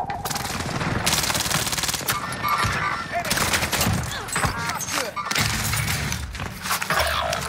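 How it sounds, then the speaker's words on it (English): A precision airstrike in Call of Duty on Rebirth Island sets off a chaotic run of loud blasts, shattering crashes and rattling gunfire. The bursts are heavy and broadband, with sharp breaks and several abrupt restarts across the stretch. "Allied precision airstrike incoming."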